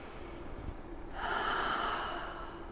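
Audible breathing during a heart-opening vinyasa yoga flow, a soft slow exhale swelling into a broad airy rush after a quiet start, with no talking.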